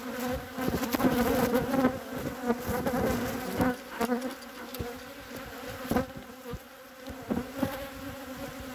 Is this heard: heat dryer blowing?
no